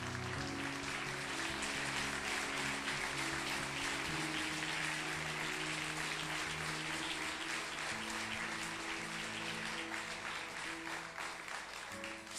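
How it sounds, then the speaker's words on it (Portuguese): Congregation applauding during a church sermon: sustained, dense clapping over steady low music, filling the whole stretch at even loudness without a break. "Quem acredita, aplauda e glorifique."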